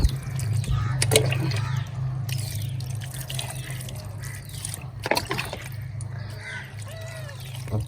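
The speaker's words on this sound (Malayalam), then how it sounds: "ഇനി വാലി, കുഞ്ഞാപ്പിൻ്റെ വാലിലേക്ക് വെള്ളം ഒഴിക്കാണ്." Water is poured over a pet cat's tail during a bath, trickling and dripping close by over a steady low hum, with a couple of sharper splashes.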